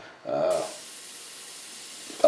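A Badger Sotar airbrush set to 12 psi lets out a steady, soft hiss of air and paint spray, opening with a louder burst before settling to a constant stream.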